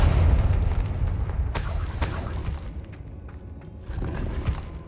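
Confringo spell explosion in Hogwarts Legacy, a loud burst with a crackling, shattering tail that fades over a couple of seconds, then a lower rumble of game ambience.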